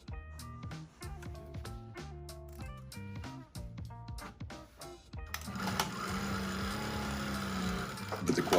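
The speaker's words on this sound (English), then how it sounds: "So we have 8 layers of material being sewn at this moment" A Juki DDL-8000A industrial sewing machine drives its needle through eight stacked layers of material, first in short rhythmic bursts of stitching with brief pauses, then in a steady, loud continuous run.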